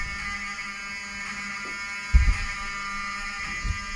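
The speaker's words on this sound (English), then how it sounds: "I want them to hear the fire alarm." A hotel fire alarm drones steadily with a harsh, buzzing tone, heard as if from a room, with a few dull thumps and knocks over it.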